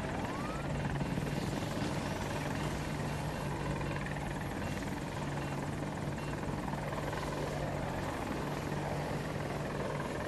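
AH-64 Apache helicopter on the Hourglass map of a combat video game, a loud, constant rotor and engine roar with a steady low drone filling the whole stretch.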